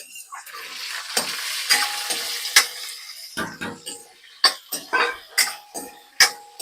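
Green chillies fry in a pan for a chutney under a soft sizzle, punctuated by sharp, irregular taps and scrapes of a spatula at close range, with no one speaking.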